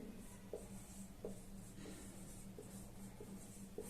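Marker or chalk scratching across a board during a maths lesson on area and volume, a quiet run of short strokes with soft periodic taps, faint and alone with no talk.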